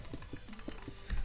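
Rapid clicks and key taps on a computer keyboard during Minecraft preparation, close and crisp in an irregular quick rhythm with no talk.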